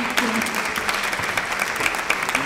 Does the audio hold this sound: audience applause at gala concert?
yes